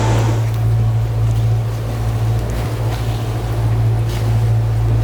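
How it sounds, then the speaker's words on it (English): A Leopard 48 catamaran motors along under engine with a steady low diesel drone and hum, while wind and water rush softly over the top. "So now we're motoring along."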